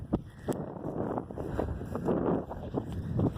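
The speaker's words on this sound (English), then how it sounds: "Wind is terrible, but it feels good." Wind blowing outdoors buffets the microphone in a steady rough rumble with gusty swells, no voices heard.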